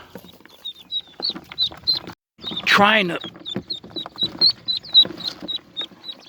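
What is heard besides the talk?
ducklings squawking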